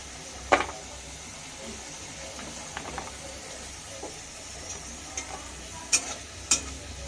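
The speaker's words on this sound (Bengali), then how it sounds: "আলু ভাজা হয়ে গেছে, এবার তোলা হচ্ছে।" Round potato slices crackle faintly in hot oil as they are lifted out, with a few sharp utensil clinks and scrapes against the pan standing out over a low, steady sizzle.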